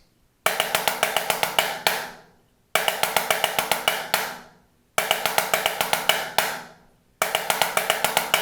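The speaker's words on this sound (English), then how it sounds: "today we're doing the 10-stroke roll" A drummer plays the 10-stroke roll rudiment on a snare: four crisp, evenly spaced bursts of rapid strokes, each closing on a sharp accent with a ringing decay before silence.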